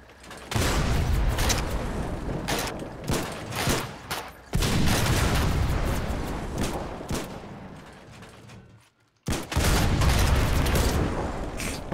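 Dense gunfire from the war video game Foxhole rattles in loud, rapid bursts and crackling volleys almost nonstop, with a brief pause near the end before the shooting resumes, and no clear talking.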